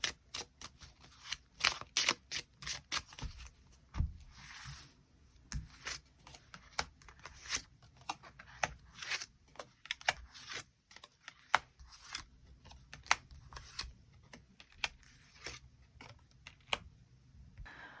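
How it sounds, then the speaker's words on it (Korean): Tarot cards being shuffled and drawn, a long run of quick close riffling snaps and flicks in irregular bursts, fairly soft, with no talk. "추가 카드로 일별로 월요일부터 일요일까지 어떤 하루를 보내게 될지 추가 카드 뽑아보도록 하겠습니다"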